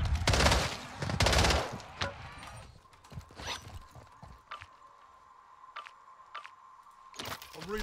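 WSP Stinger pistol fire in Call of Duty Zombies comes as two loud rapid bursts at the start, then scattered sharp single shots and game effects sound over a faint steady tone, with brief talk mixed in.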